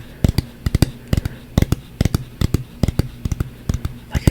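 Fingers tap out a galloping rhythm imitating approaching horse hooves, crisp close knocks in quick uneven pairs and triplets repeating steadily for several seconds.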